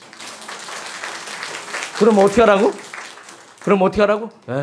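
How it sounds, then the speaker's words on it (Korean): Congregation applause in a church service, a sustained wash of clapping from many people with a speaker's voice cutting in over it. "저분들을 위해서 박수 한번 쳐보세요"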